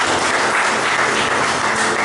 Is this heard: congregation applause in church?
yes